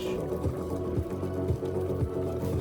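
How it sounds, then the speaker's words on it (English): Water pouring steadily into a bowl of Chongqing instant noodles, a continuous gurgling stream with the pitch rising as it fills. "add 130 to 150 mils of water"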